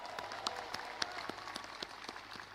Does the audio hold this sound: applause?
yes